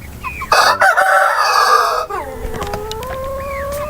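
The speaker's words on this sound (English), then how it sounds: "he's really grown to be a mature rooster" A mature rooster crows loudly and close by, one long drawn-out call followed by softer clucking and another short crow-like cry.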